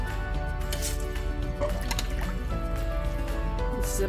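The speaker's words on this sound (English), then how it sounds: "Now it's time to add the rice, the soaked rice." Soaked rice being added to a grinder for dosa batter gives a steady wet, sloshing trickle with small drips over a constant low hum, close and continuous, and no talk.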